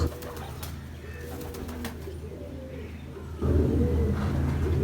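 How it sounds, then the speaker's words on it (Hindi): Black Horse breed pigeons coo in low, repeated rolling calls close by, layered over a steady background hum, with a louder burst of cooing toward the end. "शिकरी मादा और वो दुबई वाला कबूतर, बड़े शानदार बच्चे निकले"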